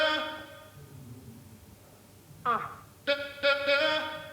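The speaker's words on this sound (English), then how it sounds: "I'm gonna add a vocal loop on top." A vocal loop sample loaded from a Komplete Kontrol MK3 sampler for a deep house groove, with sustained harmonic sung tones that are faint at first, then a few louder, brighter vocal phrases toward the end.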